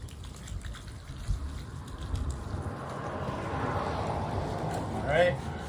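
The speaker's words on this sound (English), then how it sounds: "and then I'm just gonna rinse it off." Running water rinses an MWR air filter, giving a soft, steady splashing wash under a voice, with a brief louder gush near the end.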